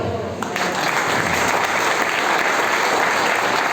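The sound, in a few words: congregation applause in church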